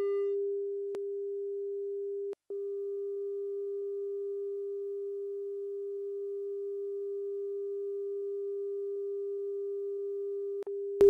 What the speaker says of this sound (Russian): Сначала синусоидальный сигнал частотой 400 Гц с уровнем 0 дБ.